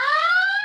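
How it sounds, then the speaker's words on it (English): Electronic alarm sounding a brief, steady multi-tone electronic beep, clear and alone. "the alarm's going off"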